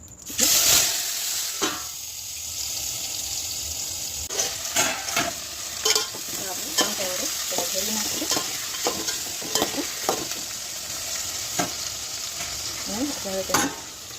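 Steady sizzling of cluster beans and potatoes tempering in hot oil, with repeated stirring scrapes and clinks throughout, close up and fairly loud.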